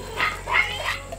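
Dogs at a large dog farm in Tamil Nadu housing around thirty puppies, giving three short, sharp bark-like yelps in quick succession at close range, with no talking.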